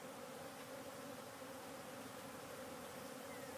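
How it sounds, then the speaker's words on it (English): Honey bees swarm around a new hive where they have already built a large comb, making a dense, steady buzzing drone that holds evenly and close throughout. "those bees in 3 days have made that comb"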